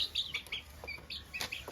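Several white chickens cluck and chirp in short, separate bursts, fairly close, with a low background hum and no talking.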